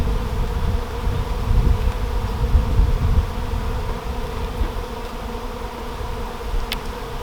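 Honey bees buzz continuously around an open hive during an inspection, a steady close drone that swells slightly then settles, with no talking.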